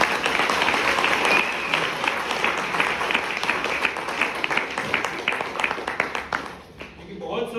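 Audience at a celebration event applauding, a full, continuous round of clapping from many people that thins toward the end, with some speech mixed in.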